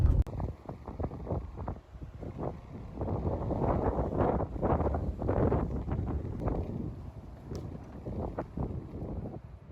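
Wind blows outdoors around an apartment property, gusting and buffeting the microphone in low rumbling bursts for several seconds, fairly loud with no clear speech.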